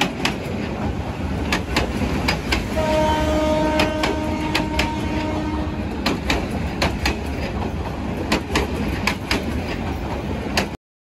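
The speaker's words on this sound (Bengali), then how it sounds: "এখন রেলগাড়ি যাচ্ছে দেখুন" A train rolls past with a steady rhythmic clickety-clack of wheels over rail joints, fairly loud and continuous, with a brief tonal squeal partway through.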